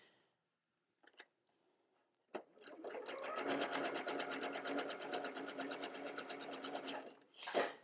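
Sewing machine stitching pieced quilt fabric: a few soft clicks, then a steady, rapid even-paced mechanical chatter running for about five seconds before stopping, fairly close and clear.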